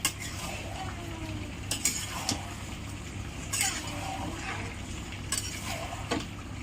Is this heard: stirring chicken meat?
yes